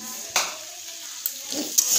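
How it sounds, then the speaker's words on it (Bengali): Food stirred while frying in a pan over moderate flame, with a soft steady sizzle and a few brief scraping clinks of the utensil against the pan, close and fairly quiet. "এই যে একটু নেড়ে নেবো"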